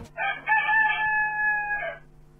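A rooster crows one long cock-a-doodle-doo, loud and close, used as a jingle on a Brazilian morning radio news broadcast, with a low steady hum underneath and no talking.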